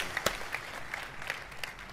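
Scattered applause from an audience at a live E3 2018 briefing reaction event, faint and distant, a light patter of clapping with a few sharper claps, steady throughout.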